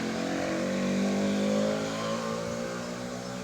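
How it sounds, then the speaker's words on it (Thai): A car drives past close to a house, its loud engine droning with a steady hum that eases and fades slightly as it moves away, with no speech over it. "รถพอดีรถมาเสียงดัง"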